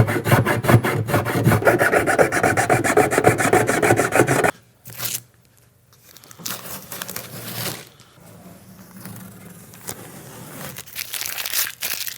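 A hand file rasping along a freshly cut speaker opening in a motorcycle lid on a Milwaukee 8 Road Glide, rapid steady back-and-forth strokes for several seconds, then scattered lighter scraping and pauses.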